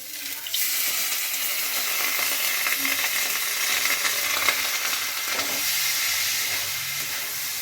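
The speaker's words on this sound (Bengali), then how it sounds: "একটু চালটা আমি ঘিয়ের মধ্যে ভেজে নেব" Aromatic atap rice for khichuri sizzles as it fries in ghee in a kadai, a loud, steady hissing crackle after a brief quiet start, with occasional stirring scrapes.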